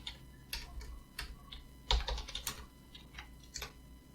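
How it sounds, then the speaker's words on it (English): Clicky bursts of typing on a computer keyboard, separate keystrokes in uneven short runs, close and fairly quiet with no talking. "once again we're going to type exclamation point import"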